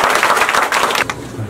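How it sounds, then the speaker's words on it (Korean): Audience at a policy forum giving dense welcoming applause for a speaker, a brief burst of many hands clapping close and loud that thins out toward the end. "큰 박수로 환영해 주시면 고맙겠습니다"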